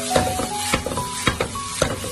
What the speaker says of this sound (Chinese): 我们快速的给它翻炒一下，翻炒均匀，让苦瓜和茄子给它融合在一起